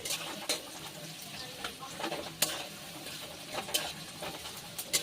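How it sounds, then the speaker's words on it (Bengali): Finely chopped onions fry in mustard oil over a high flame for biryani, giving a faint, steady sizzle with occasional sharp clicks and scrapes of stirring, heard alone. "একদম গ্যাসের ফ্লেমটা কিন্তু হাই হিটে রেখে বেরেস্তাগুলো ভেজে নিতে হবে।"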